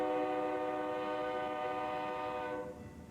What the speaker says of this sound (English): Probably can't hear me over the trains.